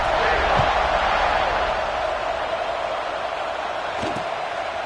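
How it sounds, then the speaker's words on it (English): A college football stadium crowd hums steadily after a touchdown, a broad continuous roar with a couple of faint thumps underneath. "this crowd is buzzing after that last score"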